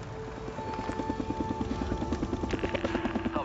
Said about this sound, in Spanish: Mira. Helicóptero.